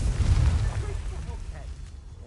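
In a video game, a Confringo blasting spell goes off as a deep rumbling explosion that booms loudly at first, then fades over about two seconds.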